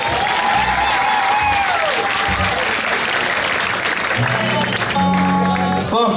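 Concert audience applauding steadily throughout, a dense wash of clapping with musical tones and instruments sounding underneath and a few voices mixed in.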